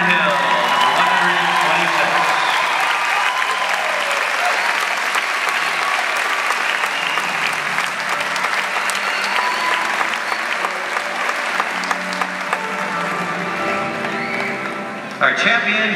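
A horse show audience applauds the 2010 Hunter Seat Medal Champion, with steady, dense clapping that holds loud and even throughout. A voice speaks over the applause.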